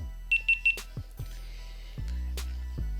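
GoPro Hero 10 powers on with three quick, bright, evenly spaced beeps, followed by a few soft clicks and handling knocks as the camera is held close, with no talking.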